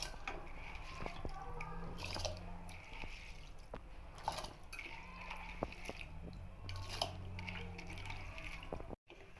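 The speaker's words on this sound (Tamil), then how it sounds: "இப்போ நம்ம ஊற வச்ச 30 நிமிஷம் ஊற வச்ச அரிசியை இதில் போட்டுருவோம்" Soaked rice tipped into boiling milk for pongal: wet splashes, drips and soft squishy plops, close and fairly quiet, coming in irregular bursts over steady bubbling.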